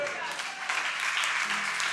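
A congregation at a church seminar applauds briefly, a steady wash of clapping that swells slightly partway through.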